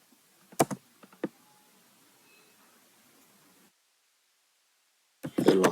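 A few sharp clicks of a computer keyboard while typing out web page code, quiet and close, followed by a silent gap and a burst of louder noise at the end.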